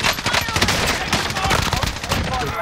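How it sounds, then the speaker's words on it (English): Gunfire in the video game Call of Duty Warzone: dense, rapid bursts of shots crackle continuously and loudly throughout, with little gap between volleys. "Oh, I'm getting shot in here."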